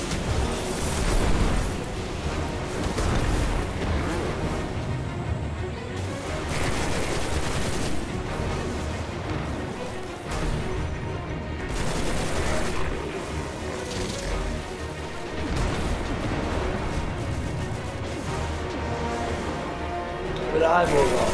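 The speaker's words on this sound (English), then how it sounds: "Who the fuck is shooting at me?" Gunfire in the shooter game Destiny, sustained bursts of automatic fire and heavy booming shots repeating across the stretch, with loud blasts recurring every few seconds.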